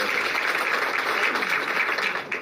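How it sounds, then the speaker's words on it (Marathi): Loud, sustained applause fills a crowded OBC reservation-protection meeting in Pune, dense clapping running steadily throughout with a faint voice beneath. "त्यांच्यासाठी सुद्धा जोरात टाळ्या"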